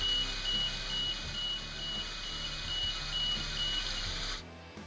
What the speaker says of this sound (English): Tilt alarm.